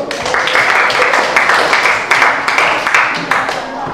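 A classroom of students claps hands in a counted rhythm, sharp bursts of claps in short groups, with voices chanting along.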